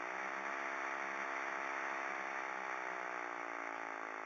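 A small DC motor driven by an Arduino whirs with a steady, even hum that holds constant the whole time, close and fairly quiet.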